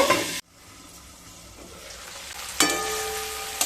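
Large cauliflower pieces frying in a pan with a loud sizzle that cuts off abruptly, then a quieter hiss that gradually builds before a second sharp burst of frying, close and with no voices.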